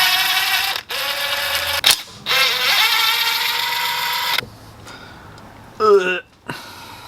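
Power tool, likely an impact or ratchet, removing two bolts from a Nissan 350Z differential, running in long loud whirring bursts with brief stops and a final short rising spin, no talk.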